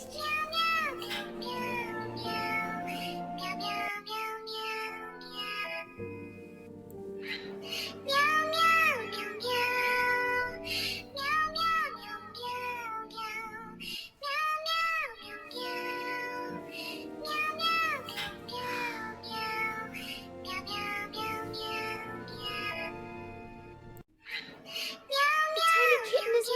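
A kitten meows repeatedly in high, wavering cries, clustered in bursts with short pauses between, loud and close, set against a soft musical background.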